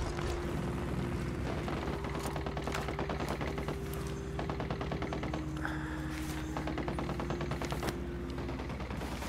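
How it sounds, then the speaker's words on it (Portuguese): A turret in Ghost Recon Wildlands fires rapid, continuous automatic bursts, a dense rattling stream of shots over a heavy mechanical drone and hum, loud and unbroken throughout. "Tá uma torreta aí atirando."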